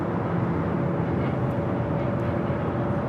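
A British Airways airliner, flight 282 bound for London Heathrow, departs Los Angeles International Airport with a steady, broad jet roar that holds at an even level throughout, with no voices.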